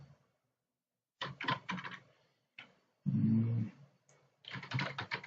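A web address is typed on a computer keyboard in short bursts of rapid, close key clicks, separated by pauses, with one heavier thump in the middle.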